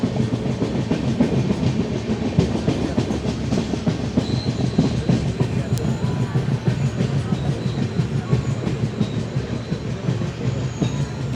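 Train rolling toward Poonkunnam station on the Thrissur line, with a steady rumble and rhythmic clickety-clack of wheels over rail joints, loud and continuous throughout.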